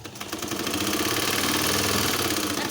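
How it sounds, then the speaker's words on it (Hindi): A sewing machine stitches elastic onto a diaper cover, its motor humming loud and close in one continuous, evenly pulsing run with no break. "ज़रा ज़रा सा खींचते जाएंगे और सिलाई करते जाएंगे"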